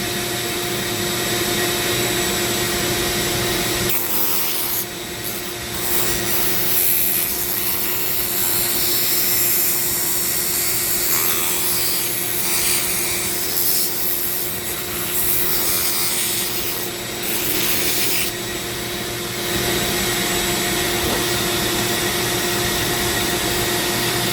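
A Dremel rotary tool sands a zebra wood ring, a continuous close high-pitched motor whine with abrasive rubbing and small shifts in pressure throughout.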